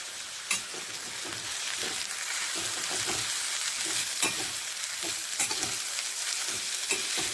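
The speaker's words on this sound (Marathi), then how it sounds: "एकदा गवार व्यवस्थित परतून घ्यायची" Cluster beans (gavar) sautéing in a pan give a steady, moderate sizzle, punctuated by periodic sharp scrapes and taps of a spoon stirring against the pan.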